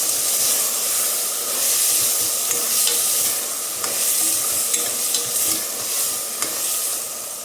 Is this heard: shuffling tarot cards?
no